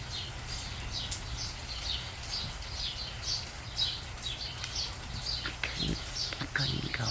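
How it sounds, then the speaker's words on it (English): Songbirds sing from a big bush outdoors, their short bright chirps repeating steadily through the clip over a constant low rumble of background noise. "I couldn't go until I let you hear the birds some more"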